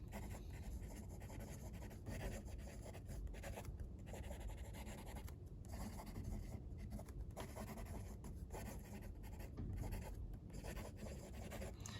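A Jinhao fountain pen with Robert Oster Lake of Fire ink moves across paper, making faint, continuous close-up scratching and rubbing strokes with brief pauses between words.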